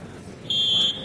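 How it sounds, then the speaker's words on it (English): A steady electronic tone sounds once at a city council meeting to signal expired speaking time, a short clean beep lasting about half a second over quiet room noise. "Hit the buzzer real quick when the time expires."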